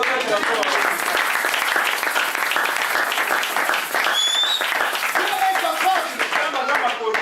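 A church congregation applauding, sustained dense clapping from a large crowd with voices calling out over it throughout.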